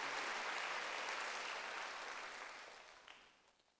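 A church congregation at a Wednesday service claps on cue, a soft, even patter of many hands that holds steady and then fades out toward the end.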